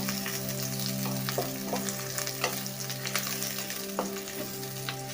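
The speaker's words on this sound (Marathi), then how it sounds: "या तुपामध्ये आपण हा कांदा घालूया आणि हा कांदा लालसर भाजून घ्यायचा आहे" Sliced onion frying in ghee over a medium flame, giving a steady close sizzle and crackle with a few sharp scrapes and taps of a stirring spoon over a low steady hum.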